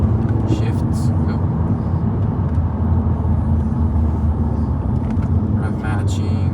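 A 180 hp VW Scirocco engine drones steadily from inside the cabin on a fast sunset drive, a constant loud low rumble with slight rev changes as it shifts, with no talk over it.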